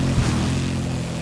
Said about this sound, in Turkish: Kendi kendine gidiyor motor.